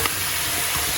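Chicken soup ingredients sizzling in a pan, a loud, dense, continuous frying hiss close up, heard alone without talk.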